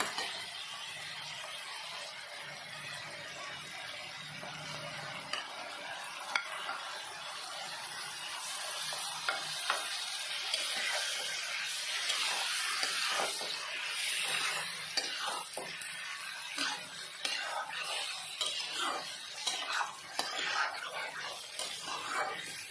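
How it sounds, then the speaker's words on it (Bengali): Bottle gourd and shrimp fry in a pan, a steady sizzle running throughout as a spatula stirs them with repeated close scraping and clattering strokes. "একটু ভাজা ভাজা করে এটা নাড়িয়ে দিলাম। দিয়ে এবার আমি লাউটা দিয়ে দিই"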